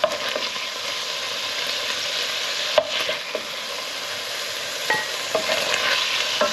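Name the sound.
lamb browning in a pan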